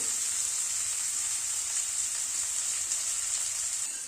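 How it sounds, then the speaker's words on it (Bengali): Onions frying lightly in a pan over a medium gas flame give a steady, even sizzle that holds at one level throughout, close and moderately loud with no voices. "গ্যাসের ফ্লেমটাকে মিডিয়ামে রেখে পেঁয়াজটাকে খুব হালকা করে একটুখানি ভেজে নেব।"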